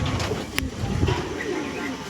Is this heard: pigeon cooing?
yes